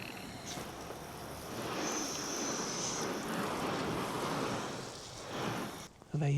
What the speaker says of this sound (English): The first thing to do is to wet the roof.